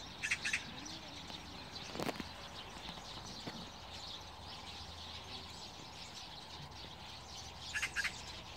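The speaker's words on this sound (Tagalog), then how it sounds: "Ang daming ibon, grabing liliit." Many small birds chirp and twitter in an autumn morning outdoors in South Korea, faint and somewhat distant, with brief bursts of calls against steady background noise.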